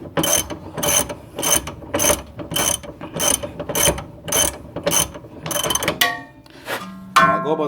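A ratchet tightens the rear sway bar bolt on a 2004–2008 Grand Prix, sounding as a dozen evenly spaced clicking bursts of close metallic ratcheting, then a few irregular clanks and rattles at the end.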